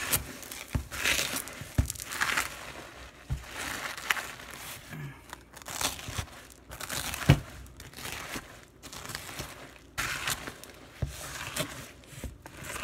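Rice Krispies being added to a sticky chocolate mixture and stirred in, giving soft crinkling and crunching scrapes in an uneven, continuous rhythm, close and fairly quiet.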